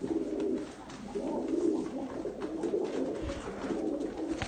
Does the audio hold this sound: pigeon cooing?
yes